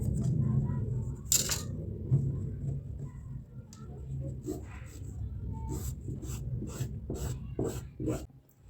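A pen or chalk is drawn in a smooth curve across fabric while a tailoring pattern is drafted, giving a soft, close scratching under quiet room tone, with a few sharper taps and rustles toward the end.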